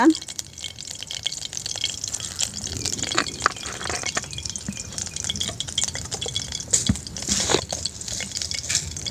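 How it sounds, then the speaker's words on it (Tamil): Sesame oil pours into a cooking pan, giving a soft liquid trickle with light clinks of the vessel, while a voice talks over it in the background. "நான் இந்த நல்லெண்ணெயை விட்டுறேன் இதுக்குள்ள"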